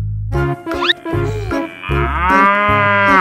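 A cartoon cow gives a few loud, drawn-out moos in quick succession, close up and alone, the last one long and rising.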